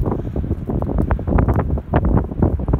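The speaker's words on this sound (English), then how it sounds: "There's a bit of a wind." Cold wind buffets the microphone at a cliff face hung with dangerous ice, a steady low roaring gust that fills the whole stretch with rumbling turbulence and no voices.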